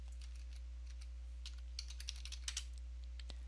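A computer keyboard clicks through a short run of soft, scattered keystrokes. They sit faintly over a steady electrical hum.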